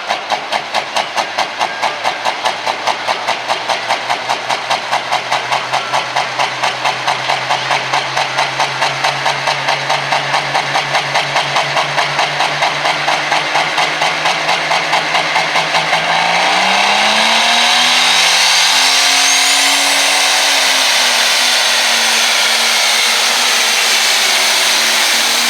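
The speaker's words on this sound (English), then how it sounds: "And wait till you hear this thing rev up." A John Deere pulling tractor revs loudly at a tractor pull, its engine holding a steady high drone that climbs in pitch and roars louder partway through, with a rapid rhythmic pulse running underneath.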